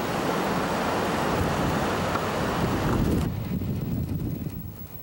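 Winter sea surf off an island pounding under a cold northwest wind, a loud continuous roar of waves and gusting wind that eases toward the end.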